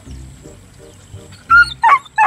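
A dog barks three times in quick succession, loud and close, after a low rumbling background, in a rural setting where a snake is being dug out of the ground.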